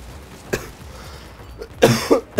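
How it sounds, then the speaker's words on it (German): A man coughs during a Battlefield 4 gaming session, several close, rough bursts clustered near the end after one earlier short cough, loud against quiet room noise. "Husten."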